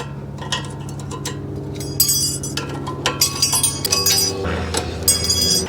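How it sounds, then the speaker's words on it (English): Metal brake pad hardware clips are pried off the caliper bracket of a Toyota Corolla's front brakes, giving sharp, close metallic clinks and snaps in an irregular run, with a faint low hum underneath. "Now our new brake pads came with replacement clips here, or new hardware, so we're going to pop these all off."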